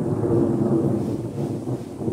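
A rainy-season thunderstorm rumbles in one loud, sustained low roll, with steady rain noise beneath it and no voices.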